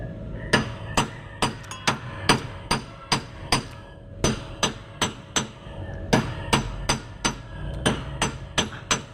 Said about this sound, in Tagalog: Pukpok mo na, pukpok.